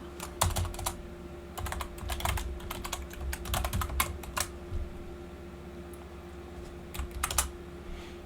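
Rapid bursts of keystrokes on a computer keyboard while Python code is entered, close and crisp, pausing briefly between runs over a steady low fan hum.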